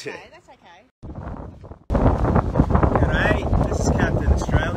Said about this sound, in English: It's very, very windy, in case you can't tell.